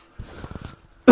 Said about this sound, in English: Sorry folks, I just have to clear my throat here.